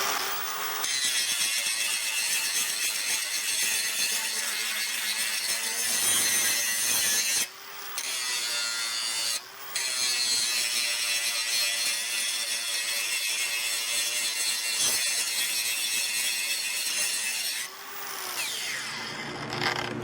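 Milwaukee M18 Fuel grinder with a 24 grit 4.5-inch cutoff disc slicing through metal, a loud, harsh continuous whine and rasp with a few brief dips as the disc eases off the workpiece.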